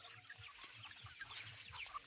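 Faint, scattered clucks from a few free-range chickens in a mango orchard, distant and low against a quiet outdoor background.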